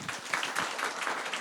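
Crowd applause with scattered cheering from an audience at a business contest, a dense, fairly steady wash of clapping lasting about a second and a half with no clear speech.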